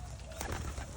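Pigeons near their coop giving a soft, faint coo, with low rumbling background noise under a single brief call.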